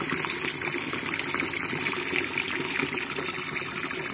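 Water gushing steadily from a boiler drain during a well pressure tank replacement, a continuous close splashing rush with no voices.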